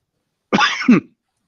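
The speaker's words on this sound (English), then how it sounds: "There's that smoker's cough again." A short, harsh cough in two bursts, rough and phlegmy, close and fairly loud, then silence.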